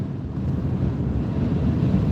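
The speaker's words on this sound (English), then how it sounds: "It's getting windy up here, Nomadic." Steady wind buffets the microphone with a low, rumbling roar, continuous and close, with no voices.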